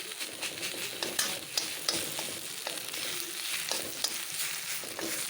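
Ghee sizzles steadily in a pan as it is added to a cooking mixture of kochu greens and bean seeds, a continuous crackling fry with small pops and stirring scrapes, close and moderately loud, with no talking.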